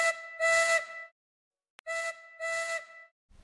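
Two long steam engine whistle blasts, each a rising then sustained chime with a brief break inside, separated by a pause with a faint click, loud and close with no voices.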